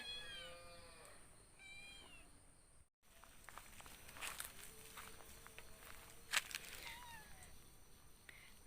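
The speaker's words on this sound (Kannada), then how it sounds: "ಬೆಕ್ಕುಗಳುಂಟಲ್ಲ ಹೀಗೆ ನಿದ್ದೆ ಮಾಡಿದ ಹಾಗೆ ಆ್ಯಕ್ಟ್ ಮಾಡೋದಂತೆ ಬೇಟೆ ಹಿಡಿಲಿಕ್ಕೆ" Cat at a village home meows several times in quick succession, fairly soft and close, followed by quiet shuffling footsteps and light clicks in a hushed room.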